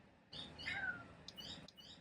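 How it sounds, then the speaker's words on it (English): One faint, short cat meow, rising then falling, sounds in a quiet room. "What are you meowing for?"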